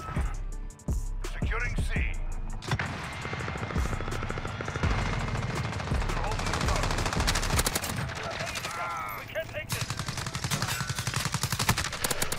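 Rapid, sustained automatic gunfire from a Call of Duty: Modern Warfare match using the ACR/Kilo 141 assault rifle, with dense bursts rattling almost continuously across the whole stretch, loud and close, with the player's voice occasionally underneath.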